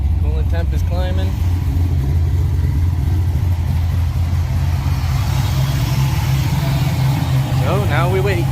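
A car engine idles while warming up after oil leak repairs, giving a steady close hum under people talking.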